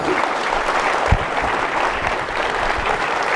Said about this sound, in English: Would you please thank him with your applause?